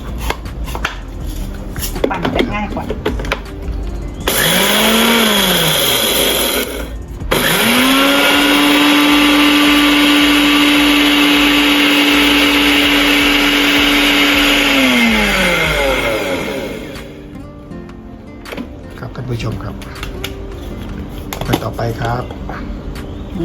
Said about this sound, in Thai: ปั่นให้เป็นแป้ง ที่จะปั่นนะครับ อันข้าวปะคั่วเมื่อกี้นะครับ